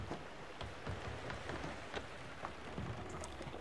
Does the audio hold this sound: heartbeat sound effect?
no